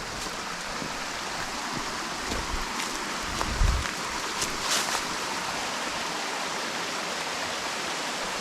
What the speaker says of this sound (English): I like that waterfall.